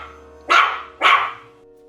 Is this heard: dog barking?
yes